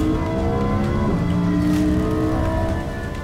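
A 640 horsepower Lamborghini Huracán Performante accelerates hard, its engine droning steadily and loudly with rising harmonic tones throughout, close and continuous with no talk.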